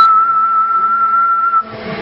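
A steady whistle tone carried over a CB radio link, held clear and loud for about a second and a half before cutting off into band noise.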